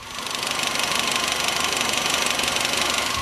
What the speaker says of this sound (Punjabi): ਗੱਡੀ ਸਟਾਰਟ ਹੈਗੀ ਤੁਸੀਂ ਦੇਖ ਸਕਦੇ ਹੋ ਆਵਾਜ਼ ਬਿਲਕੁਲ ਸਾਇਲੈਂਟ ਹੈ